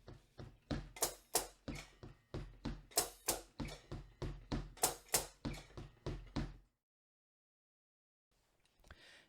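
Feet alone on a drum kit play kick drum and hi-hat in a lilting 6/8 pattern: quiet, evenly spaced thumps and chicks in groups of three for about six seconds, then silence.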